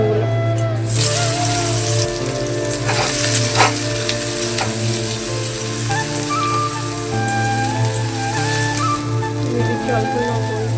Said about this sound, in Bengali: ভেজে নেবো সয়াবিনগুলো।